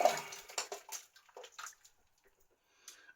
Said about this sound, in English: let's just rinse off the bowl